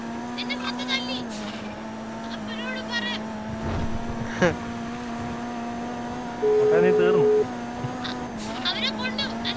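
Boat engine in a video game, a steady droning motor hum running throughout, with people talking over it and other brief game noises around it.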